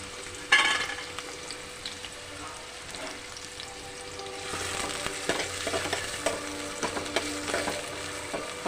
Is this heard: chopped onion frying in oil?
yes